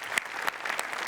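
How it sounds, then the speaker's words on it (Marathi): An audience claps steadily through a short burst of applause at a comedy show, heard close and with no talking over it. "जोरदार टाळ्या."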